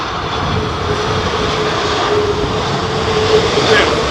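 A jet airliner roars in to land at Heathrow in stormy winds, a broad, steady engine rumble with wind noise, loud and continuous across the clip.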